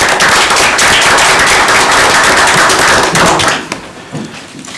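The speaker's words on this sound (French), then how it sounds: "une bonne main d'applaudissements pour ces gens-là" Loud, dense applause from the audience at a municipal council meeting, many hands clapping steadily for several seconds before quickly tapering off to a few stray claps.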